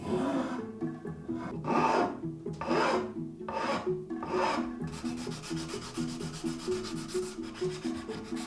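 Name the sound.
filing wood with a rasp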